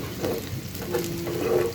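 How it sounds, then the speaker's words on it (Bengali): Chopped onions fry in a generous amount of oil for a beef curry, giving a continuous close sizzle with light bubbling and occasional stirring. "খুব সুন্দরভাবে পেঁয়াজটা ভাজা হয়ে যাচ্ছে"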